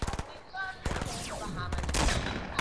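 Rapid bursts of gunfire from an online shooter, sharp repeated shots in quick clusters with a swooping whoosh between volleys, loud and close.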